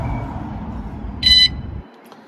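Van alarm being armed by remote control gives one short, bright electronic beep burst over a low engine-like rumble, after which the background drops to near quiet.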